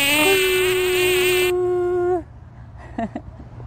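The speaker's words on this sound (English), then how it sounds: "The bees are coming out of the, the hive." A loud, steady honeybee buzz drones close by at a hive for about two seconds, then cuts out, leaving faint rustling and a few soft sounds.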